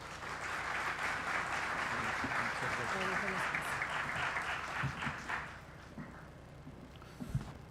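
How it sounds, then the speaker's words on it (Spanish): Applause from a seminar audience welcoming a speaker who works with Argentina and Colombia national youth and senior teams, broad and steady for about five seconds before thinning into scattered claps and room noise. "Lo recibimos con un fuerte aplauso"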